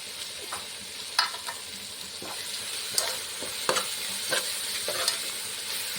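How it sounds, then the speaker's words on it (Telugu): Ginger garlic paste is stirred into a sizzling Nellore-style fish curry base. A quiet, constant frying hiss sits under repeated scrapes and knocks of a spoon against the pan. "కొంచెం అల్లం వెల్లిపాయ పేస్ట్ కూడా వేసుకుని ఒకసారి కలుపుకుందాం"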